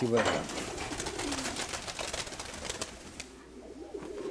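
Pigeons coo softly in a loft, low repeated calls mixed with rustling and scattered background noise while people talk quietly close by.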